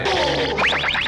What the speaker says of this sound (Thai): นี่ไงเป็นเสียงไรเดอร์คิก